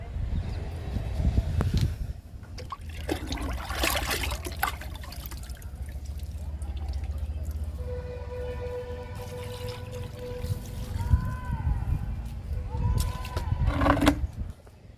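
Kitchen-waste liquid fertilizer is poured onto potted pomegranate plants, a steady watery trickle and splash running through the middle with louder bursts near the start and end, plus a few faint knocks.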